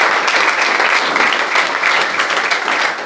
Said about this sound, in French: Applaudissons pour le Saint-Esprit.